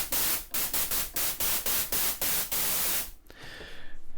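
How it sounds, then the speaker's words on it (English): Plain white noise from the noise oscillator of a Logic Pro ES2 software synth, fired as a rapid series of about ten short, evenly spaced hissing bursts, then a softer, brighter filtered wash at the end. "it's basically just a plain white noise"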